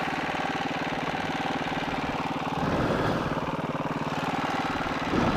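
Husqvarna FE 501 dirt bike engine running on a trail at Fort Pierce Ridge, a close, steady thumping single-cylinder drone that rises a little partway through, no speech.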